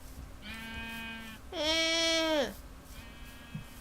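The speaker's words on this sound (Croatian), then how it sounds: "Glupe ovce." Minecraft sheep bleat twice, a shorter call followed by a louder, longer wavering baa, clear and close with no talking over them.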